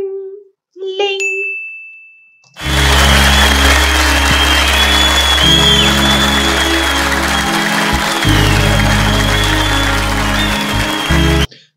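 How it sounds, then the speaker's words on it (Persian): A studio audience applauds at a televised singing competition after a performance, dense sustained clapping with cheers, preceded by a few short electronic chime tones. "از اجراش معلومه که این تشویقه"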